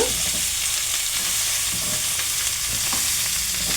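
A pan of cashew chicken fry with chilli powder is stirred, producing a loud, continuous sizzle with scraping strokes of the spatula throughout.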